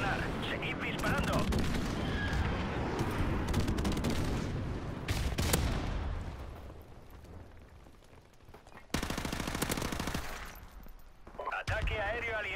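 Gunfire from the Call of Duty Modern Warfare Remastered video game crackles in dense bursts and sharp single shots, mixed with in-game voices and other battle noise.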